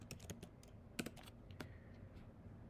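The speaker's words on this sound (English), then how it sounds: "in the search, you'll type in tabnine." Quick, quiet keystrokes on a computer keyboard, a short run of clicks close by with a louder tap in the middle, no voices.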